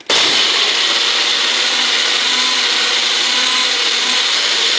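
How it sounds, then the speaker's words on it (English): A blender mixing strawberry ice cream ingredients with sugar whirs loudly and steadily at close range, starting abruptly and running continuously with a high, grinding hum. "there we are blending it"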